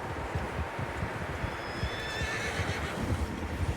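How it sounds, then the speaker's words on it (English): Several horses neigh and whinny in the open country of the Red Dead Redemption 2 video game. The calls are mid-distance and layered over a steady low ambient rumble, with faint hoof clops mixed in. "Horses, quite a few of them."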